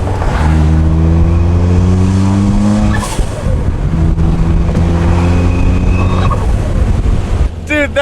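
Car engine fitted with a big turbo revs hard twice in a row, rising harmonics climbing through each pull before dropping back, loud and close, with a brief whoosh between pulls and a sharp flutter near the end.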